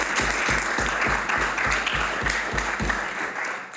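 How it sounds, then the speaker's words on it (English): Audience in a legislative House of Assembly applauding, a steady burst of many hands clapping with regular beats, sustained and close for the whole stretch before tapering slightly at the end. "applause and thanks."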